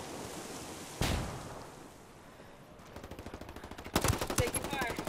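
Video game gunfire: one sharp shot lands early, then a rapid burst of automatic fire crackles and grows louder near the end. A faint voice is heard in the background.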